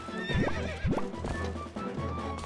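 A horse whinnies twice in quick succession in the video game Twilight Princess HD, loud and close, with rumbling background noise continuing afterward.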